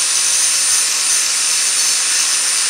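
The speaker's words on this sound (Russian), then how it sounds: "Толстым зачищающим кругом сточил острые углы." Angle grinder with a thick grinding disc taking sharp corners off a steel tire lever, a loud steady high-pitched grinding hiss running without a break.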